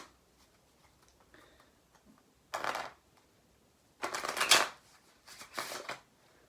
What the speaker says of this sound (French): Maintenant, on va mélanger ce paquet de cartes pour perdre la carte du spectateur.